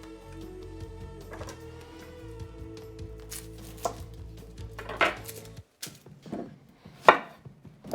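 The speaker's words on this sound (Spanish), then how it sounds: "cortamos la cebolla" An onion is chopped on a board for a Hungarian pork stew, with a few sharp knife strikes near the end that ring out clearly over a quiet kitchen hum.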